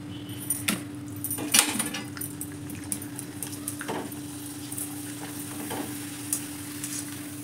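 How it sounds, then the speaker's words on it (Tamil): Cassava appalam vathal fry in hot oil with a soft, continuous sizzle, broken by occasional sharper crackles and the clink of a utensil stirring in the pan. "அப்படி சுருண்டுக்காமல் அழகாக பொரிஞ்சு வருது. டக்குன்னு பதமாக பொரிச்சு எடுக்கணும்."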